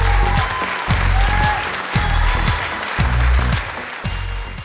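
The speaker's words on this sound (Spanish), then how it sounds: "Estos aplausos son para nuestro invitado de hoy" A studio audience claps for a guest scientist on a live talk show, producing close, loud applause with a few rhythmic thumps underneath that lasts a few seconds.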